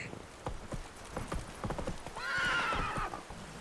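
A horse in The Witcher 3 video game gallops with rapid, steady clip-clop hoofbeats close by, then lets out a loud whinnying neigh in the second half.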